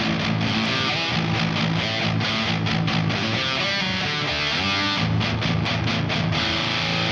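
High-gain rock and metal electric guitar played through a NAM amp profile, a dense, saturated distorted tone with steady chugging rhythm and sustained chords throughout, loud and close with no talk.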